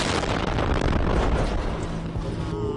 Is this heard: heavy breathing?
no